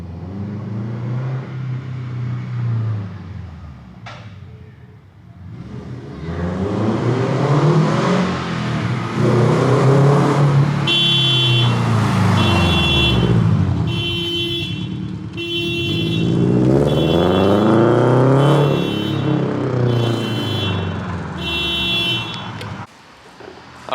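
A loud Subaru FR-S car engine with aftermarket headers revs repeatedly, rising and falling in pitch several times with a raspy, aggressive tone, close up and dominant.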